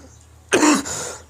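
A man with a cold lets out one harsh, rasping cough that rolls into throat clearing, close and loud after a quiet pause, with a short breath at the end.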